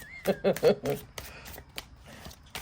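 Tarot cards shuffled close by in a quick burst of riffling flutters, followed by softer, scattered card handling under a quiet room background.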